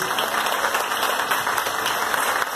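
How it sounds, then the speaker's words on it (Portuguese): A church congregation applauds in a sustained, even roar of clapping that fills the space, with little talk over it. "Então aplauda o nome do Senhor Jesus."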